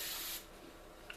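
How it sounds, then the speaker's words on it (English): A short blast of hairspray onto freshly curled, wavy hair, a bright close hiss lasting about a third of a second, then a quiet room with a small tap near the end. "And then I just give it another spray."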